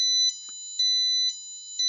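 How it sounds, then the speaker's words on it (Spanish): A piezo buzzer driven by an FPGA board sounds a siren, alternating between two shrill electronic tones in an even rhythm of about four half-second beeps, close and loud with no talking. "aquí ya podéis escuchar la sirena"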